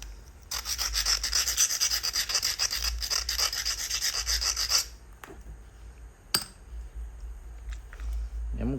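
Fine-grit abrading stone rubbed briskly against the edge of a flaked stone Clovis point, a dense rasping scrape of about four seconds that stops abruptly, followed by quieter scattered scratches and one sharp click.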